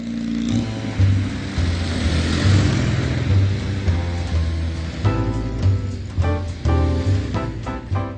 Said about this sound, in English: Like an army's convoy, the Minis drive with stance, boldness and sheer British class.